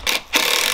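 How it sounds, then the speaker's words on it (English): A screw is driven into wood while building a base for a marquee, giving two short whirring, grinding bursts from a drill or driver, the second running steadily to the end. "I'm gonna add some screws."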